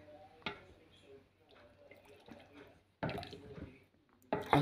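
A pot of homemade hot chocolate of plain melted chocolate coming to a boil, with soft bubbling and liquid drips, then louder bursts of gurgling and splattering near the end.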